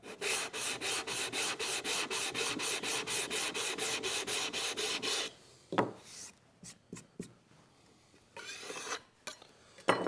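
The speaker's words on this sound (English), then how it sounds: "Then you can come back with a sanding block." Fast, steady back-and-forth strokes of a sanding block on dried filler rasp for about five seconds, then stop, followed by a few scattered knocks and light handling noises.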